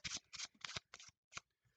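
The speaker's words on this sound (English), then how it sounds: "that's basically going to be the overhand shuffle itself" Playing cards riffle and slap through an overhand shuffle in close, crisp bursts, about five quick rustling strokes in a row before a short pause and one last soft tap, with no talking.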